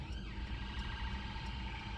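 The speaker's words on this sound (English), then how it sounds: "I can hear an ambulance" An ambulance siren wails faintly and steadily at a distance near a busy roundabout in Stoke-on-Trent, a rising and falling tone heard over the low rumble of traffic and engine noise.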